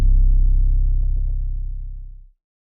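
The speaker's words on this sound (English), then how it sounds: "it's like a really low 808" A single deep, booming 808 bass note with gritty distortion, made in FL Studio, sustains for about two seconds, then cuts off abruptly, alone.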